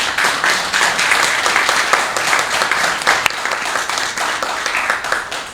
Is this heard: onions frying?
no